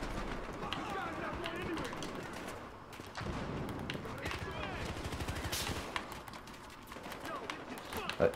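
RPK machine gun fire in the video game Battlefield Hardline, with bursts of gunfire and other weapons crackling through a busy battle soundscape, while a player talks over it.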